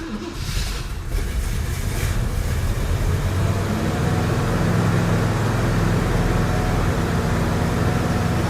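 A 1966 Ford Thunderbird engine runs on a drive, heard as a steady, loud broadband rumble with road and wind noise that stays constant throughout.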